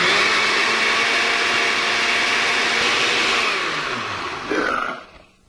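Blender pulsing crêpe batter, a loud steady whirring motor that runs continuously for about four seconds, then briefly changes pitch and winds down to quiet.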